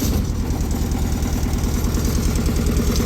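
The engine of an aerial work platform idles steadily with a loud, even low rumble and regular pulsing throb, running alone without talk.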